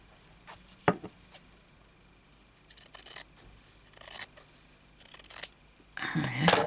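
Small scissors snip through embroidery thread on a crazy patchwork piece, giving several crisp, close cuts spaced a second or so apart, with quiet handling and rustling between them.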